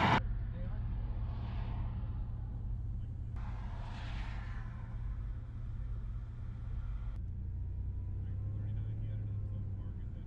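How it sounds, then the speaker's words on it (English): Cars idling and creeping in a traffic jam on a road through Banff National Park, a Toyota pickup alongside, heard as a steady low engine rumble and road hum from inside a vehicle, with no sharp events. "I am now in traffic"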